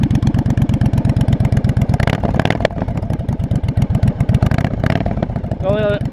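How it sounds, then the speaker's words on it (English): Loud 1982 Yamaha Virago 920cc motorcycle engine with exhaust pipes cut very short, a rapid harsh popping rumble that stays steady and close for the whole stretch. "I cut the pipes off. I just cut them super short, but it sounds awesome. This thing is so loud."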